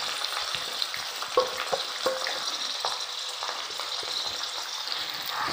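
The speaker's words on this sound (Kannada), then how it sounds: "ಇವಾಗ ಈ ಮ್ಯಾರಿನೇಟ್ ಮಾಡಿಟ್ಟಂಥ ಚಿಕನನ್ನು ಹಾಕ್ಕೊಳ್ವಾ." Yogurt-marinated chicken dropped into a pan with fried curry leaves over a medium-low flame: a dense, continuous close sizzle with scattered light clicks and stirring scrapes, and no talk.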